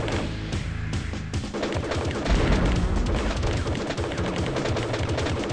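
Gunfire in the game Crusader: No Remorse: rapid automatic shots and heavy booming blasts in a dense, continuous barrage, loud and close, with game music or effects underneath.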